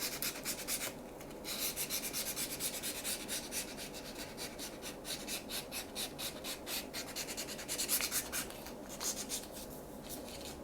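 Sanding the edge of a 100-yen picture frame for a miniature display case, quiet close rhythmic strokes of rasping back and forth with no talk.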